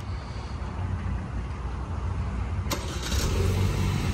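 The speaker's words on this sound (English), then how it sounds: "first thing we're going to do is start the car" A 2023 Chevrolet Camaro with a turbocharged inline four-cylinder starts up, a brief crank burst followed by a steady idle rumble, close by and alone.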